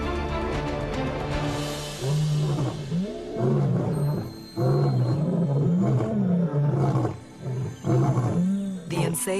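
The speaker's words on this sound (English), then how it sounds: "The Nsefu brothers roar a warning to all." Male lions, a pair of eight-year-old brothers leading their pride, roar in repeated deep, pulsing bouts that rise and fall, loud and close, with short pauses between calls.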